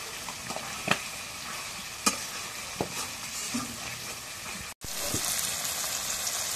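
Spiced beef being stirred and fried in a pan at home, with a steady sizzling hiss and a few sharp scraping knocks of the spoon against the pan, briefly cut off before the frying resumes.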